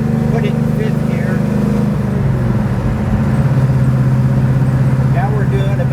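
A Chevelle wagon with a 427 engine cruises in fifth gear at highway speed, a steady droning engine hum that settles lower after the shift, with someone talking over it inside the car.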